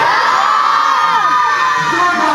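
A crowd of spectators at a tiger show yells a loud, brief collective shout with cheering and whoops, close and dense, fading slightly at the end.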